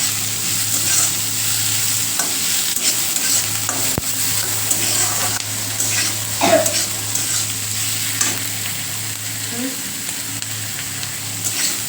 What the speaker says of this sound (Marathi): असा कांदा चांगला भाजून घ्यायचा